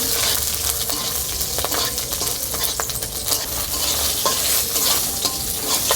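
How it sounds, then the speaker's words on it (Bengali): Cumin seeds and green chillies spluttering in hot oil for a tempering, with a steady close sizzle and crackle running throughout, along with a few light stirring scrapes. "কাঁচা লঙ্কা জিরের ফোড়নটা দিয়ে দিচ্ছি"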